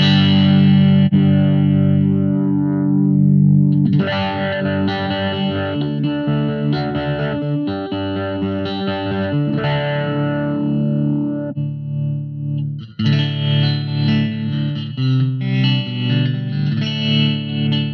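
Electric guitar played through a modulation effect on a Blackstar ID:Core V4 amp, loud and continuous, with chorus-like shimmer and some distortion over sustained chords, a brief dip near the end before the playing resumes.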